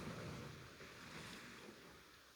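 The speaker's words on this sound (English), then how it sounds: "As you can hear that beautiful background, the waves." Soft, continuous wash of ocean waves heard from a distance, low and steady with a gentle breezy rumble.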